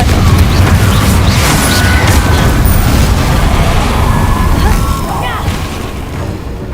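A Confringo blasting spell explodes in a Harry Potter video game, a loud booming burst with a rumbling tail that fades over several seconds.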